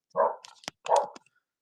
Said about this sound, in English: Sorry about the barking. My dog is outside and wants inside